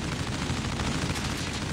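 Automatic gun firing in a video game, a dense continuous burst of rapid shots that fills the whole moment, loud and close, with no talk over it.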